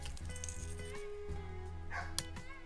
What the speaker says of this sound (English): You hear my puppy down there.